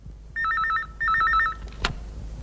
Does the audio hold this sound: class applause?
no